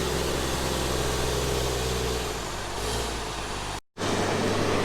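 A truck pulls onto a property to deliver gravel for a concrete pour, its engine a steady loud rumble under broadband noise, briefly cut off before continuing.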